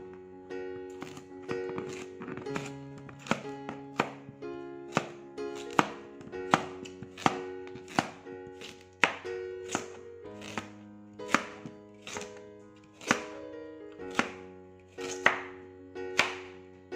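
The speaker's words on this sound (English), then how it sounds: "Cut them in small pieces and set them aside on a plate." A knife chops peeled carrots into small pieces on a cutting board, sharp evenly spaced thuds about one per second over a steady background, close and clear with no talking.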